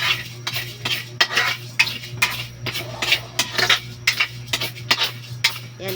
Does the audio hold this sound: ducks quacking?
no